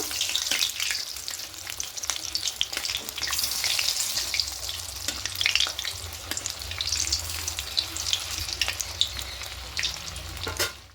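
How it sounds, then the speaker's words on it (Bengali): Catla fish pieces frying in oil in a wok, a constant crackling sizzle up close, with scrapes and knocks of a spatula as the pieces are turned over. "এই মাছগুলো উল্টে নেব"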